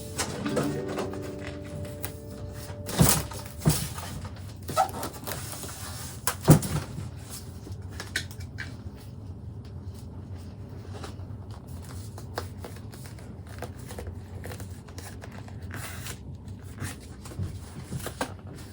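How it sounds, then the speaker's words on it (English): Sheets of paper being folded over by hand to make a no-sew book of drawings. Soft, faint rustling and creasing with a couple of sharper crinkles, heard alone in a quiet room. "All right, I'm going to fold this over like this."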